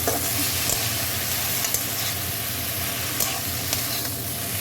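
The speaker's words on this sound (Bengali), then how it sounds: "ঢেলে সম্পূর্ণ সব মিশিয়ে ভাজা দেবো" Dried fish fries and is stirred in a pan, making a dense, continuous close sizzle with scraping stirs throughout.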